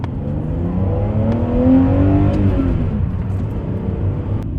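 A BMW E39 530i engine revs steadily with a rough drone and rattling catalytic converters; the revs climb and settle again, loud and close, with no talking.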